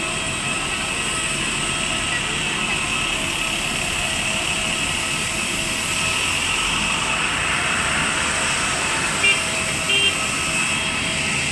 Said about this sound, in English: This is a plane!